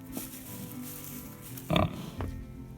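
A heavily pregnant farm pig on a homestead gives a few low grunts, with a louder burst near the middle and another shortly after over a quiet outdoor background.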